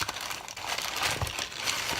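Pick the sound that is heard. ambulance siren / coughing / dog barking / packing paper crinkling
packing paper crinkling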